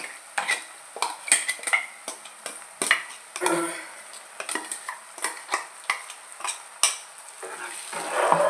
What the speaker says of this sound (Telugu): వేసేసుకుని కొద్దిసేపు వేపుకోవాలి.